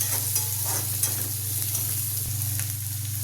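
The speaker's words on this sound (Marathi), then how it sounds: "कांदा छान तांबून भाजायचा" Onion frying in a pan with green chili, curry leaves and coriander: a steady, close hiss of sizzling oil with a low hum beneath and faint scraping from stirring, no voices.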